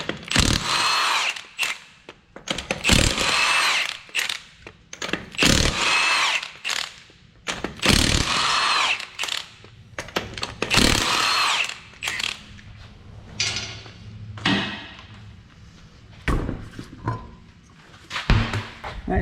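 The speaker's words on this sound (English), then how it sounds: "you'll need to remove the 5 21mm lug nuts" Power impact tool spinning off the five 21mm lug nuts on a Mazda 3 passenger front wheel, loud repeated bursts of a few seconds each separated by brief pauses, close by.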